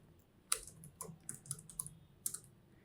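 Quiet computer keyboard typing at close range while coding: a short run of separate key clicks in an irregular rhythm, ending with one firmer press, with no talk.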